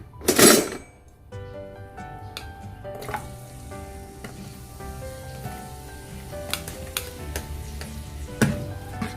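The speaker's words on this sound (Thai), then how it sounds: "พอกระทะเริ่มร้อนแล้วเราก็จะใส่กระเทียมก่อนเลยนะคะ" Garlic sizzles and crackles in a hot pan after a loud initial splash, with soft clinks of a utensil scattered through the steady frying, as Thai stir-fried fermented pork with egg begins.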